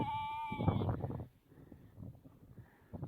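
A sheep lets out one loud, wavering bleat up close, followed by quieter rustling and faint background sounds outdoors.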